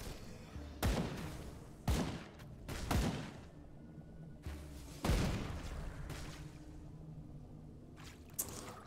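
Fire grenade explosions in the Grim Dawn action role-playing game: a series of sharp, booming blasts at irregular intervals, each with a short rumbling tail, over faint background game ambience.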